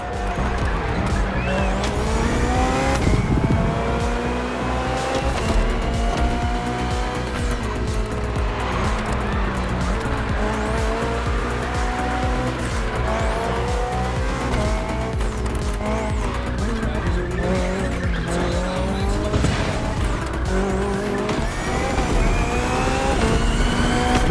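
A BMW hybrid V8 race car in The Crew Motorfest roars loudly and continuously, its revs rising and falling through gear changes, with tire squeal and skidding throughout.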